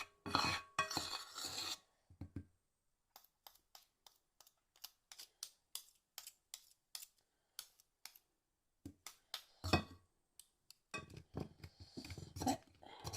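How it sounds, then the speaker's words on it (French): Chocolate being scraped from a bowl without a spatula, heard as a run of short, dry rasping strokes in uneven bursts, close and fairly quiet, with louder scraping at the start and end. "On va tout racler."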